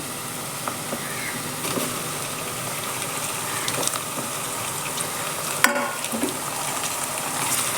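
Tomatoes sautéing in hot oil for coconut milk rice give a steady, close sizzle, broken by scattered spoon stirs and one sharp clink of utensil against pan; no one speaks.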